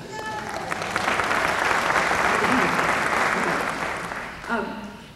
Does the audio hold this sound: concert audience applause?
yes